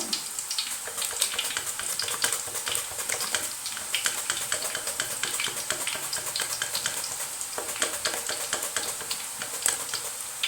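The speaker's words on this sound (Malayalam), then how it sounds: "തിളച്ച് കിടക്കുന്ന എണ്ണയാണ്" Raw banana slices for chips fry in boiling oil, giving a dense, continuous close-up sizzle and crackle with small bursts of bubbling and no voices.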